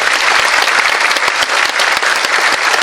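A loud, dense wash of audience applause fills a Gyeongbuk education book concert ceremony honoring student and teacher authors, steady and full throughout with occasional sharper individual claps standing out.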